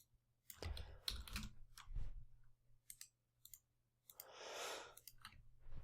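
Computer keyboard keys tapped in short, uneven bursts of clicks, fairly close and quiet, with pauses between runs and one longer, denser stretch of typing near the end.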